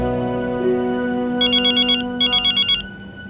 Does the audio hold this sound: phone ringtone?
yes